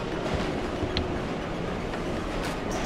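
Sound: train in Gang Beasts video game

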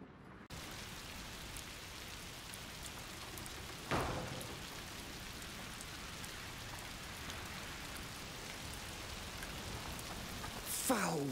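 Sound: rain in the video game A Plague Tale: Requiem

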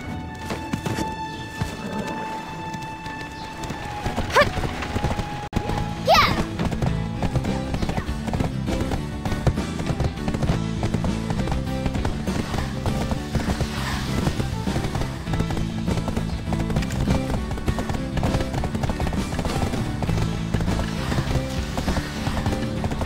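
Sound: horse galloping in video game Black Desert Online

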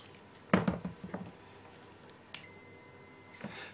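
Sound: Fluke multimeter continuity test beeps

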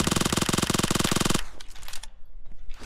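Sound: gunfire in the video game PUBG Mobile

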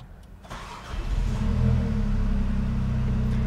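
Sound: MINI car engine starting

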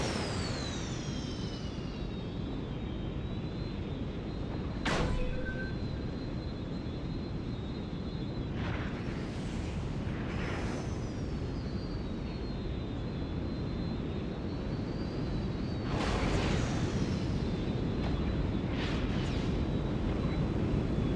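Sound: enemy ships being shot down in video game LEGO Star Wars Skywalker Saga

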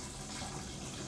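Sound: water being poured into a container

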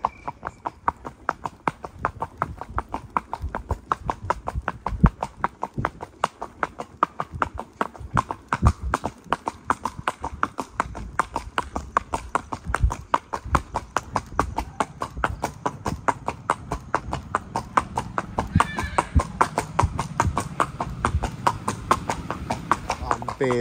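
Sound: horse hooves clip-clopping at brisk walk

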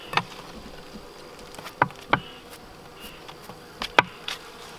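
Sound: honey bees buzzing on hive frames

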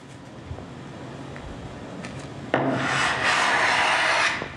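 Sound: Axminster Rider block plane cutting wood

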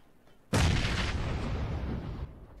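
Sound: grenade explosion in video game PlayerUnknown's Battlegrounds

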